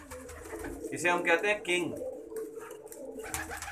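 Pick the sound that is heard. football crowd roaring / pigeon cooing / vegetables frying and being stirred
pigeon cooing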